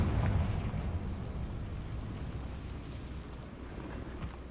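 A Confringo blasting spell from Hogwarts Legacy goes off with a loud, deep explosive burst at the start. A rumbling, crackling tail then fades slowly across the few seconds, with no voices.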